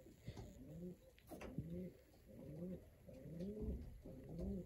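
A racing pigeon coos at close range in a loft, a regular series of about five soft, throaty rolling coos evenly spaced against quiet background noise.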